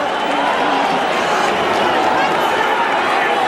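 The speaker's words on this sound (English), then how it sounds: "Always difficult to know why a crowd is booing." A large boxing arena crowd of about 8,000 at the Mike Tyson vs James Tillis fight in 1986 gives a loud, sustained wash of booing and roar, with a commentator talking over it.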